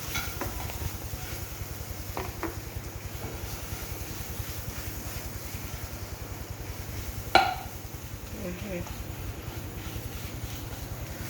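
Mashed taro being stirred and fried in a pan, a steady low sizzle and scraping that runs throughout, with one sharp clink of the utensil partway through.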